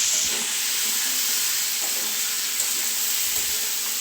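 Bengali chicken curry in a pan, stirred after hot water is poured in: a loud, steady hiss of steam and simmering sizzle fills the space, with faint scrapes of stirring underneath and no speech.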